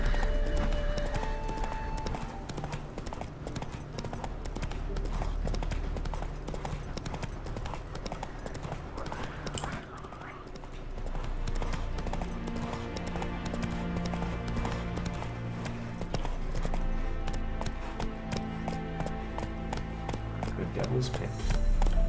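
A horse named Roach gallops and trots in The Witcher 3 video game, its hoofbeats running continuously beneath loud game music with occasional neighs throughout.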